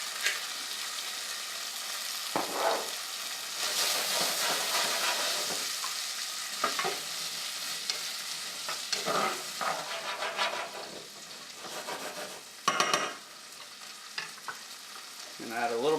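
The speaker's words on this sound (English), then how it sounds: "watch for popping because there's moisture in the chickpeas" Chickpeas fry in a hot pan, giving a steady sizzle broken by scattered sharp pops and spatters from their moisture, close and moderately loud, with no talking.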